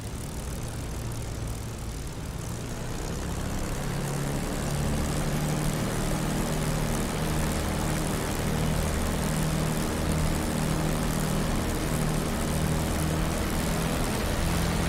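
Propeller aircraft engine in a flight simulator game, a steady droning hum with a low throbbing beat that swells slightly after the first few seconds and holds evenly throughout, no talk.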